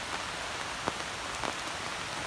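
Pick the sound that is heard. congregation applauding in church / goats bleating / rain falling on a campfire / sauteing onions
rain falling on a campfire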